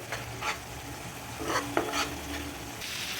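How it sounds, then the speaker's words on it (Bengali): Spice paste frying in a pan as it is stirred hard, with repeated scraping strokes rising out of a steady oily sizzle, close and clear. "এরপর মশলাটা ভালোভাবে কিন্তু কষিয়ে নেব"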